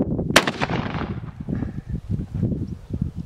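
A single sharp gunshot fired at a pumpkin cracks out loudly near the start, then trails into a rumbling echo and outdoor rustle.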